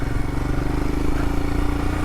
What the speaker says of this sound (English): you can just literally take your hand off the throttle, zero throttle, and it just chug, chug, chug, chug, chug, tractors along